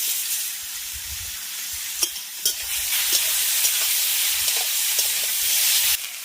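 Straw mushrooms gathered from a household straw pile are stirred in hot oil in a pan, giving a steady close sizzle with a few sharp scraping knocks of the spoon and no talk.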